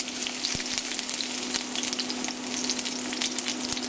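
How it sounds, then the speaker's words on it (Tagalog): Crushed garlic frying in hot cooking oil in a pan gives a steady, bright sizzle with a constant crackling hiss and occasional soft stirring clicks, close and alone. "At kapag mainit na yung oil, ilalagay ko na dito yung garlic."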